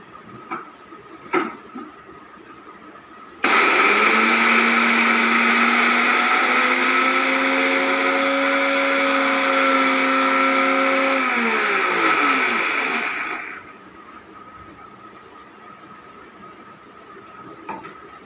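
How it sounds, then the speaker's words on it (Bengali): Mixer grinder whirs loudly for about ten seconds as it grinds pepper, garlic, ginger and cumin for chicken biryani, starting abruptly, with a rising then falling motor whine before cutting off to quiet room tone. "এটাকে আমি মিক্সি গ্রাইন্ড করে নেবো।"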